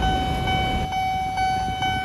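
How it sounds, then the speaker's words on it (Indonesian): A KRL commuter train rolls past a railway crossing with a steady rumbling roar. Rhythmic wheel-on-joint clacks repeat while a high, steady crossing bell tone rings throughout. "Tapi ini ada KRL komuter lain dulu ya"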